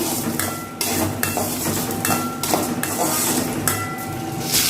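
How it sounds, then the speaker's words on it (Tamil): Okra fries in oil while a spoon stirs it in a metal pan, giving repeated scraping and clinking strokes over a steady sizzle, close and moderately loud, with a voice talking intermittently. "சேர்த்துட்டு நல்லா கிண்டி விட்டுக்கலாம். வெண்டைக்காய் இந்த எண்ணெயில நல்லா பொரியணும்"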